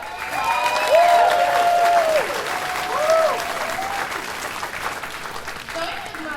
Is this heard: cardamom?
no